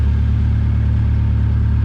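A car engine running on a DIY Speeduino ECU idles steadily and close up, a smooth low rumble with an even pulsing rhythm throughout and no voices.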